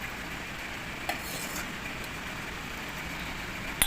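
Hands mix mango, mustard and mustard oil for kasundi, giving a soft, low, continuous squelching with a couple of faint wet clicks near the start and end.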